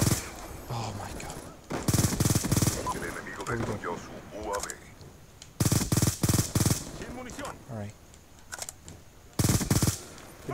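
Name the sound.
M8A1 rifle gunfire in video game Black Ops 2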